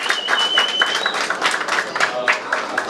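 Audience applause follows a call to clap, steady dense clapping lasting a few seconds, fairly loud with speech-like sounds mixed in.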